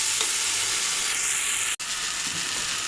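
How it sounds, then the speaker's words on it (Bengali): Water poured into a pan of hot fried spice paste for a duck egg and tomato bhuna bursts into a loud, steady hiss and sizzle that holds for the whole moment, with one brief dropout, close and without talk. "এখন জল দিয়ে দেব"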